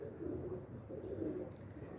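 Soft, low cooing from teddy pigeons, a continuous burbling murmur with faint chirps above it, fairly close and unhurried.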